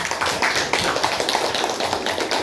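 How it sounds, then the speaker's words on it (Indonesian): Students in a school religious-education class clap after group conclusions are read, a quick, uneven burst of close hand claps and taps from a small group, with no talking. "Baik, tepuk tangan."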